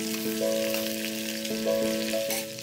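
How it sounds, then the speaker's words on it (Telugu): Curry leaves and green chillies fry in hot oil for jeera rice, giving a steady close sizzle, with a sustained tonal hum layered over the hiss and no talking. "కొంచెం బాగా చేతి కొద్దీ కరివేపాకు వేసేయండి ఇందులో."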